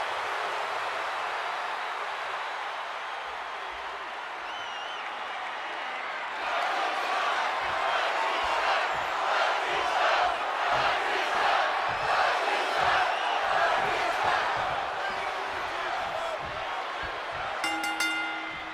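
A WrestleMania arena crowd roars and cheers, the noise swelling partway through and staying loud and dense, with shouts and clapping mixed into the continuous wash of sound.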